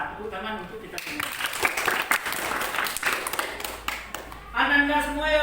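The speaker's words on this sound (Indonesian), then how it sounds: "Tepuk tangan untuk kita semua." A classroom breaks into a few seconds of brisk clapping, with a voice speaking just before it starts and again right after it ends.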